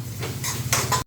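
Tomatoes drop into a tempering pan of oil with garlic, ginger, green chilli and onion for a dal, giving a brief close clatter and rustle of utensil and pan.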